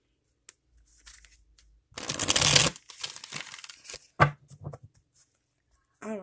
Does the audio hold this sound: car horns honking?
no